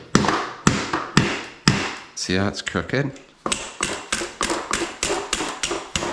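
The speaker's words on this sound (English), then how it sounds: "now we smash it with a hammer until it is flush with that" A hammer strikes a OneUp EDC tool into the steerer of a downhill mountain bike in a series of sharp metallic taps, about a dozen evenly paced blows, briefly broken by someone speaking close by.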